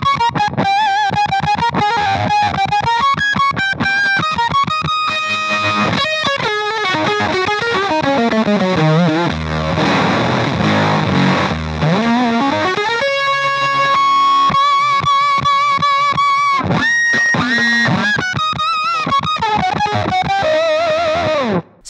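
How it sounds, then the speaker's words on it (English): Electric guitar played through heavy octave distortion on the neck pickup, bending and sliding melodic lines with a fuzzy, doubled upper tone, loud and up front. "using the octave distortion in their neck pickup"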